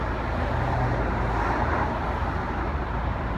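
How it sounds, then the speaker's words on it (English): Steady road traffic rumble heard from inside a moving car, a continuous broadband drone of engine and tyre noise with no distinct passing vehicles standing out. "Gotta pay attention to the traffic."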